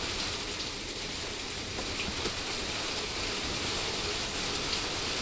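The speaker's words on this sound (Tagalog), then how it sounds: "Lakas ng ulan." Heavy rain pours down in a dense, steady hiss, drumming continuously on surfaces with no voices.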